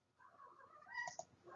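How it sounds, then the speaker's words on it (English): A domestic cat wanting to play makes a faint, drawn-out meowing and chirping in a quiet room, rising toward the end, alone without talk. "you can probably hear I have a cat here who's wanting to play"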